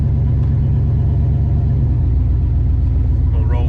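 A car engine idles with a steady, loud low rumble throughout, close by, with faint higher sounds near the end.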